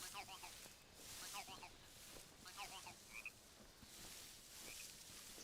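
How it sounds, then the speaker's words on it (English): Frogs croak in a jungle in Metal Gear Solid Delta, as a faint repeated rippling call sounds several times over a hissy ambient bed, quiet and somewhat distant. "It's just a frog."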